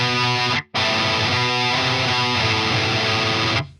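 Distorted electric guitar chord from a song with the middle string left unmuted, strummed loud and repeated, with a brief cut near the start and a dense, ringing, clashing tone.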